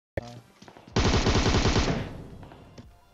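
Gunfire in the mobile battle royale game PUBG Mobile: a single sharp shot, then a loud, rapid automatic burst lasting about a second that trails off into echo.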